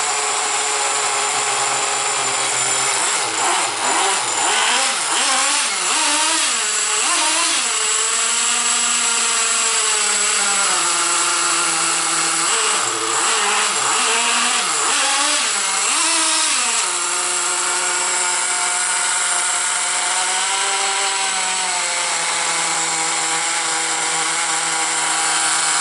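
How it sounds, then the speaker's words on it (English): A Traxxas T-Maxx 3.3 nitro RC truck engine buzzes loudly and continuously, its high, raspy whine revving up and down several times before settling into a steady idle. "But he starts up perfectly."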